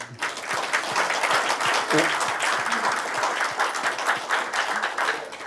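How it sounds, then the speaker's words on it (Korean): Steady applause from an audience at a Korea University session on national biological threat defense, many hands clapping together at moderate level, with a few faint voices underneath. "김익환 소장님께 한 박수 한번 해주세요"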